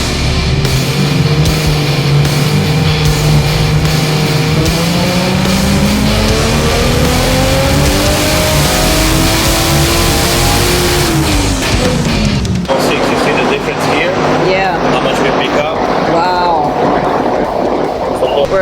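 A 1JZ-swapped Nissan 350Z running E85 on a turbo setup, its engine climbing steadily in pitch through a long loud pull on a dyno before cutting off, then idling and crackling under background noise.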